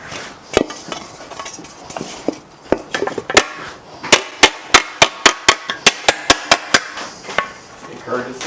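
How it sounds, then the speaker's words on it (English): A hammer strikes sheet metal set on a wooden block with a V cut into it during metal shaping, starting with scattered taps and building into a steady, fast rhythm of sharp, ringing blows. "when your hammer is in motion, it sounds like you have a consistent BPM, and really it's just the intensity of the strikes is changing."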